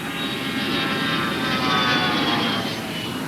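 A Bombardier 50-seat regional jet gives a steady, close roar with a high whine layered on top, swelling slightly midway and holding level throughout.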